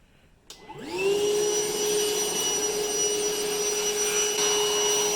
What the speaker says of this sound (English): Good thing I got the old trusty Milwaukee cordless vacuum.